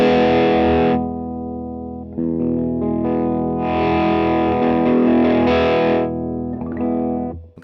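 An electric guitar played through the bridge pickup with its tone knob turned down gives sustained, distorted chords with a dull, muffled tone. The chords ring in long swells with short gaps between them, and no one speaks.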